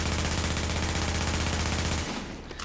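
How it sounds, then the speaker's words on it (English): Rapid automatic SMG fire in Tom Clancy's The Division: a loud, unbroken stream of closely spaced shots for about two seconds, then it cuts off. "I'm going to go ahead and use the SMG."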